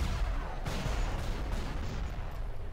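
Turret gunfire in the video game RAGE on Expert difficulty, a steady, continuous barrage of shots and thuds carrying on loudly throughout, with no voices.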